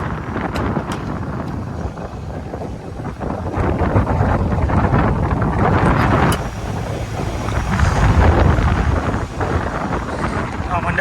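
Wind and rough waves buffet a fishing boat rolling at sea off Porbandar, a steady loud broadband rush with gusting surges throughout and faint voices mixed in.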